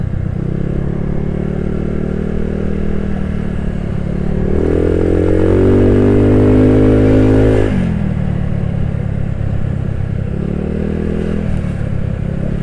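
A customised Honda Nouvo scooter-style motorcycle rides on the road with a steady engine drone that rises in a rev around the middle, then settles back to a cruising hum, loud and close throughout.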